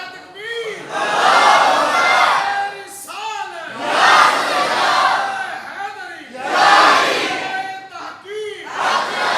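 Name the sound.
crowd chanting in response to Nara-e-Takbeer slogan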